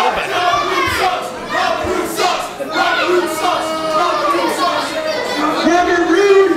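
Arena crowd noise from the wrestling video game Ace Pro Wrestling, a dense, steady roar of many voices booing the ring announcer, sustained loudly throughout with no clear breaks.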